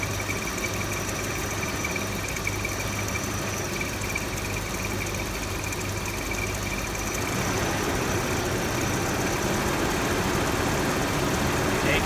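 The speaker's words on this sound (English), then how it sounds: "you can tell it's getting rich when the engine really starts to shake" A Volvo engine idles roughly during a Sea Foam treatment, running rich and shaking. The steady, close idle rumble continues alone throughout and grows slightly louder and rougher in the later part.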